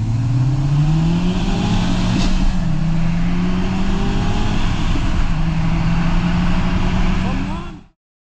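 A 2017 1.5-litre Honda Civic Turbo at 180 bhp and a 2006 Mk5 VW Golf GTI at 200 bhp accelerate hard, a loud steady engine roar with rising pitch through the gears, heard close up and alone until an abrupt cutoff.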